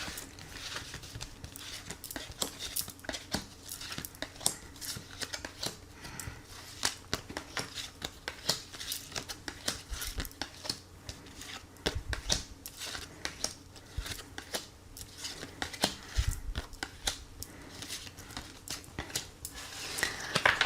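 Tarot cards are shuffled and drawn close by, giving a continuous run of crisp flicks, riffles and light slaps at a fast, uneven pace, with no talking.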